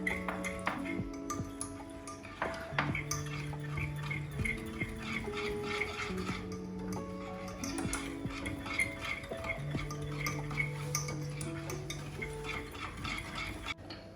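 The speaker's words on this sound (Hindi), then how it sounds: "अब इसको अच्छे तरीके से हमने 1 से 2 मिनट के लिए अच्छे से मिक्स कर लेना" A whisk or spoon stirs chocolate muffin batter with milk in a bowl, giving steady rhythmic clinking and scraping against the sides with ringing metallic pings, close and clear.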